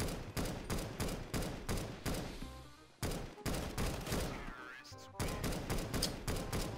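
An automatic rifle fires in rapid bursts in CS:GO, loud and close, with several sustained volleys broken by short pauses.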